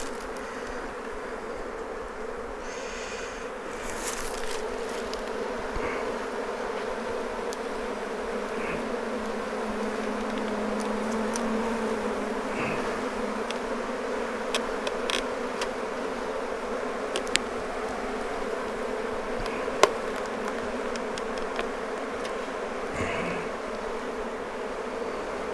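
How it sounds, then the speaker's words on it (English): A swarm of agitated honeybees buzzes steadily around a hive being prepared for a move, a dense, continuous droning hum with occasional louder passes of individual bees close by, with no talking. "There are just so many bees."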